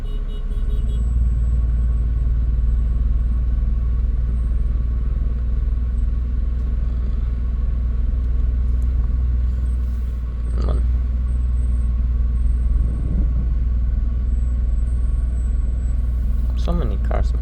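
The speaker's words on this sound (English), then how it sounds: "so many cars, man." Steady road traffic with many cars passing, a continuous low rumble throughout and a few louder vehicle swells, as someone talks over it.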